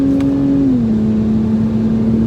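A 2021 Acura TLX A-Spec sedan's engine drones steadily from inside the cabin, its pitch dipping slightly as it settles into a smooth, even hum.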